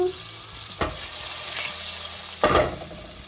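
Fish frying in oil with onions and coarse salt sizzles steadily, broken by two sharp bursts of louder crackling as ingredients are stirred or added, close by with no speech.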